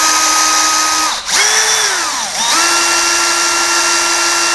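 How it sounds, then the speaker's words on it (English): An electric drill spinning a wine degasser in apple cider wine whirs steadily at low speed, its pitch dipping twice as it slows under load and then recovering to a constant whine. "I've got my drill on low, and let's go ahead and see how we're doing."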